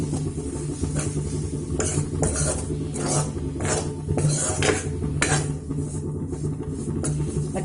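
Besan (gram flour) is stirred in ghee in a pan for besan burfi, with steady scraping and clinking of a spoon against metal in repeated strokes over a low background hum, close and moderately loud with no talk.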